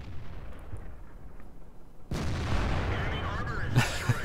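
An SU-100Y tank gun fires a shell in a tank video game: a sudden loud boom halfway through gives way to a sustained rumbling roar, with a couple of fainter thuds after, following quieter engine noise.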